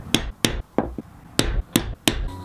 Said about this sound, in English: Then I'll use a punch to start marking out the holes.